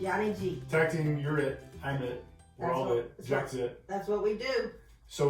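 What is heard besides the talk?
No distinct noise like a dog, phone or traffic.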